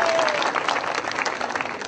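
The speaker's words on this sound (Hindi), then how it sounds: "तालियां बजाइए दोबारा।" An audience at a Goldmine International presentation breaks into dense, steady applause, many hands clapping together at close range throughout.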